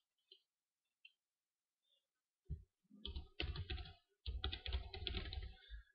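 Keys on a computer keyboard clatter in quick, close bursts after a few isolated taps, with a brief pause between the two main runs of typing.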